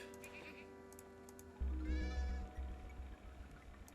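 A sheep bleats once in the video game Superbrothers Sword & Sworcery EP, a short wavering cry over soft ambient music with faint chiming notes.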